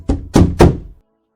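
Three heavy knocks on a door, loud and close, evenly spaced thuds followed by silence.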